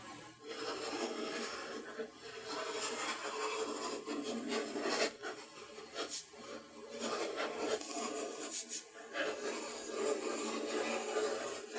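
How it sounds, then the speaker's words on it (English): A chisel scrapes dried glue off a scrap-wood clipboard panel, faint irregular rasping and scraping strokes with small sharp pops, close but quiet, continuing steadily for several seconds. "take a chisel and pop off this dried glue"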